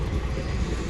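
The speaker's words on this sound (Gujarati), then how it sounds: "ટ્રેન આવે છે, થોડીક વાર ઊભી જવાનું છે" A train rolls past at a railway crossing, a steady, loud low rumble of wheels and wagons that fills the whole second without a break.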